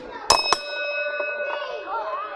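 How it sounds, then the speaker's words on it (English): At a wrestling match, the ring bell is struck twice in quick succession, loud and bright, its tone then ringing on and slowly fading under steady crowd noise and a commentator's voice. "Ring the bell."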